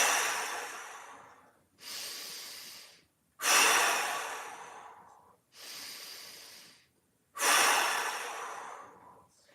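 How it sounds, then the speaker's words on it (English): Five deep, slow breaths during a mobility stretch, each a long, strong airy inhale or exhale with short silent pauses between, close to the microphone and with no talking. "we're going to go 3 big breaths. Expand the rib cage 360 degrees with your breath."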